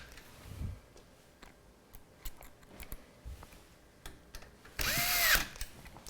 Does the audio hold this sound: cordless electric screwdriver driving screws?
yes